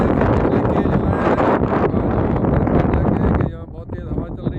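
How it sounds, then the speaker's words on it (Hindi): Strong desert wind buffeting the microphone, a loud roaring gust that blows dust near Dubai during a desert safari, with people talking through it. "यहाँ बहुत तेज हवा चल रही है, मट्टी उड़ रही है"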